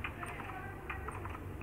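Typing on a large computer keyboard, soft scattered key taps heard faintly and briefly against a noisy background.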